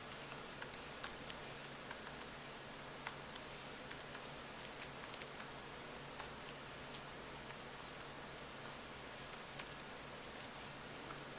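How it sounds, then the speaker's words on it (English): Keys pressed on a computer keyboard: a faint scatter of light, irregular clicks over quiet room hiss, with no voices. "I hit the keys, but they didn't really register."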